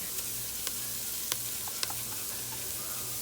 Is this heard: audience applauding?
no